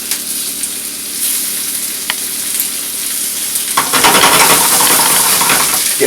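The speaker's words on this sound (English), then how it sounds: "pop the scallops in" Scallops searing in butter in a very hot non-stick pan, a loud steady hiss that swells into a stronger crackling sizzle partway through as more hit the pan.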